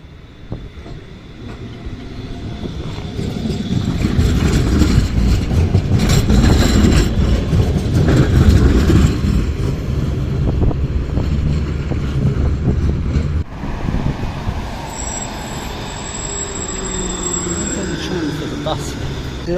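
A Pesa tram on Sofia's meter gauge tramway rumbles past close by, building to a loud rolling roar with wheel clatter, then easing off, with a faint high squeal near the end.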